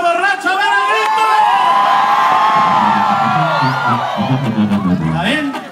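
A large concert crowd at a show roars with sustained shouts, whoops and cheers filling the space, loud and dense throughout, with a few louder individual yells standing out toward the end.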